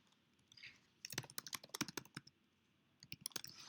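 Typing on a computer keyboard while entering R code, in quick bursts of close, crisp key clicks: one long run of taps, a pause, then a shorter flurry near the end.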